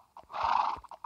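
A horse in Minecraft Pocket Edition gives a short neigh, a single whinny framed by a few soft clip-clop hoof taps, clear and alone.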